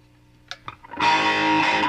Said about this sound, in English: Now let's add some reverb.